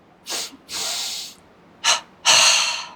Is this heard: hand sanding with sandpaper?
no